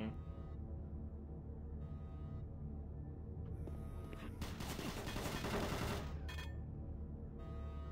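Rapid automated turret gunfire from Doom 3 erupts as a dense burst roughly midway, loud against a droning game background, then cuts off into low hum.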